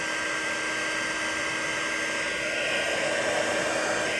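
A heat gun blows steadily while heating up beside the chassis of a 1965 Fender Super Reverb amplifier, giving an even, close, airy roar that holds constant with no talking.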